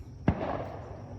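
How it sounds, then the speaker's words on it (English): A firework goes off in the distance over a backyard, a single sharp pop followed by a short, fading rumble. "it ain't even 4th of July and they're shooting fireworks."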